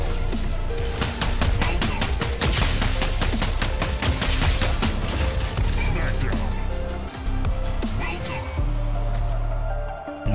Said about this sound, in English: Is that more mortars? Like, I know people like mortars